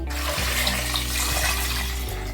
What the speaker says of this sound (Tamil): இப்போ மறுபடியும் இதில் தண்ணி ஊற்றி இதை லைட்டாக வேக வைக்கணும்.